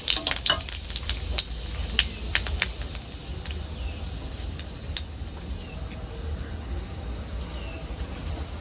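Ginger and panch phoron spices fry in hot oil, giving a fine steady sizzle with sharp crackles and pops clustered early, close and fairly quiet, with no talking.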